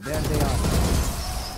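Gunfire in the video game Valorant, a dense burst of shots over a rumbling game soundscape, with a voice talking over it.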